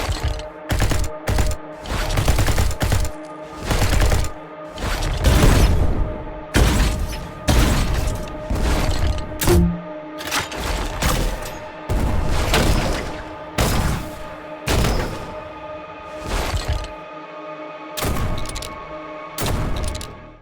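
Gunfire from the first-person shooter Anomalous: a long run of repeated loud, punchy shots in uneven bursts with short gaps, sounding thin and underpowered, steady and close throughout with no talking.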